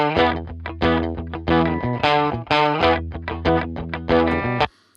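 An electric guitar plays through an Amp Designer amp with gain at noon, master volume fully up, no reverb and stock EQ, chasing a song's tone. It is a loud, distorted riff of chopped chords and stabs that rings out, then stops.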